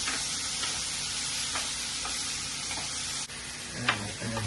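Finely cut vegetables sizzle in a hot pan with a steady, soft hiss and occasional clicks from stirring. The frying is close but fairly quiet, and no one speaks.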